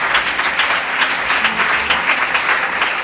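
A church congregation applauds together in a steady wash of clapping, dense and continuous throughout, with no voices standing out.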